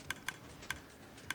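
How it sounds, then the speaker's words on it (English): Minecraft dispensers on a bone-meal auto-farm click four times, faint and irregularly spaced, each a short sharp tick against a quiet background with no talking. "The dispensers are clicking"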